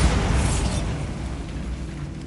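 A Bombarda blasting spell goes off in a Harry Potter game, a loud low booming blast that rumbles and decays over a couple of seconds, with no voices.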